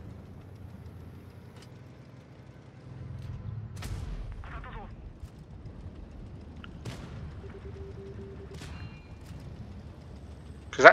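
Tank cannon fire in World of Tanks Blitz, a few sharp booming shots with short metallic impacts spread over a low game rumble, fairly faint and mostly alone.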